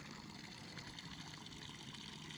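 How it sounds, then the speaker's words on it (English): Water falls steadily from a solar-powered pump waterfall into a duck pond, a soft continuous wash and trickle heard faintly throughout. "we got some water flow in the duck pond"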